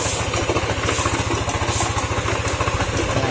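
A hot Yamaha NMAX 155 scooter engine idles loudly and close by, its steady rapid chugging layered with a rough grinding clatter and knocking throughout.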